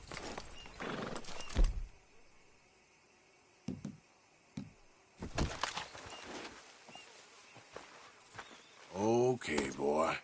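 A horse in the Red Dead Redemption 2 video game gives a few close clops and snorting bursts, mixed in with someone talking to it and other in-game voices.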